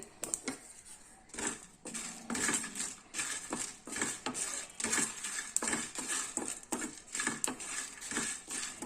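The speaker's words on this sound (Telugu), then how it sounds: "ఇలా ఫ్రై చేసేటప్పుడే స్మెల్ వస్తూ ఉంటుంది." Garam masala spices dry-roast in a pan while a spoon scrapes and stirs them, making a steady close run of rattling, clinking strokes with no voices.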